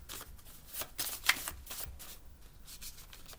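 A deck of cards being shuffled close by, a quick riffle of fluttering snaps peaking early and then tapering off, fairly quiet, with no talking.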